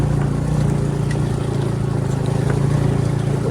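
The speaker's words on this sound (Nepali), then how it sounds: "स्कुटर त खोक्का स्लिप भइरहेको पछाडि टायर होइन नाच्दिएको है" A scooter rides along a wet road with its rear tire slipping, the engine giving a steady droning hum and road rumble throughout.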